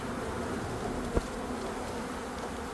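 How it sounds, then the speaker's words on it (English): Dense, steady buzzing of many honey bees swarming around an opened hive, a continuous close hum with no talk, broken only by one brief sharp knock midway. "That's a lot of bees."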